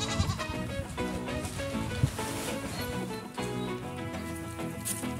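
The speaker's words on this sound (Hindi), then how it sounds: "और अभी ना यहाँ पे ना बकरियाँ वगैरह ना मे कर रही है" Goats bleating on a Himachali family farm, several calls rising through a dense, steady background of mixed sound with no talk over them.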